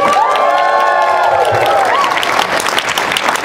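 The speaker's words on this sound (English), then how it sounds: "It's not loud enough. Let's clap for Monaco." Audience applause and cheering for Monaco at the COP18 climate conference, a dense steady wash of clapping with a few whoops rising over it, loud throughout, with voices mixed in.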